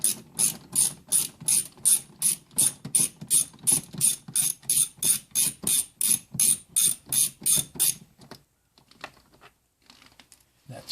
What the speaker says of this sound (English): So that's when the socket comes in with the ratchet.